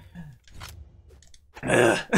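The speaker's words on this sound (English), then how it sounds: "This is me clearing my throat." A man clears his throat in a few rough, throaty bursts, ending in a louder, harsher rasp at close range, with no other talk.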